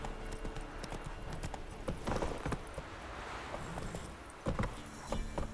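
Horse hooves clip-clop steadily at a riding pace in The Witcher 3, close and rhythmic with faint tack jingling mixed in and no talking.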